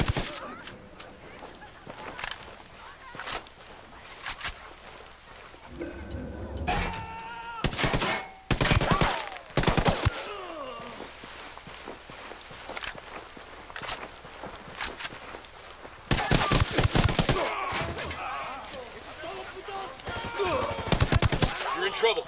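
Gunfire erupts in the Ghost Recon Wildlands shooter, with loud bursts of automatic fire and sharp single shots in clusters over a steady game ambience, the heaviest volleys coming midway and again toward the end.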